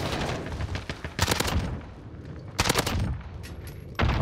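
MP5 submachine gun fire in the video game Modern Warfare, loud dense rapid bursts repeated several times with short gaps, close and dominant, surrounded by rumbling game ambience.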